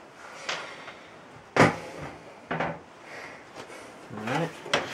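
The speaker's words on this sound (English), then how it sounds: "let's move on to the side here, so we can remove the door" Side door panel being taken off an Athlon XP custom-built computer case: several separate clunks and knocks of panel handling, one sharp louder thump near the middle, close and alone.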